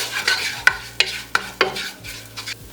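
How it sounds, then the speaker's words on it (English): Greens with granulated onion, granulated garlic and crushed red pepper are stirred in a pan, with four sharp spoon knocks against the pot at a steady beat over a soft sizzle. "Give that another stir"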